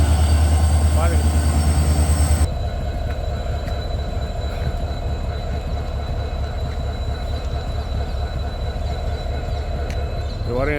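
A train rolls past an unclosed railway gate, a loud rumbling pass with a heavy low roar at first, then a steadier rattle of wagons and wheels with faint squeals, while voices talk over it.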